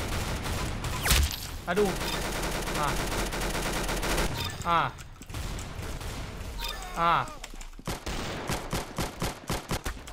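Rapid bursts of gunfire from the Roblox Arsenal video game crackle almost continuously, loud and dense with brief gaps and a few sharp single shots, while a player talks over the action.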